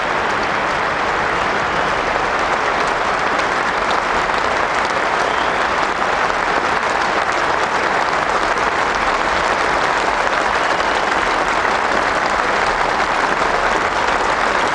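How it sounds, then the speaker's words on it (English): A Lord's cricket crowd gives a batsman a standing ovation after his century in a 1998 Test against England, with dense, steady applause and clapping filling the whole stretch without a break. "Fully deserving the standing ovation."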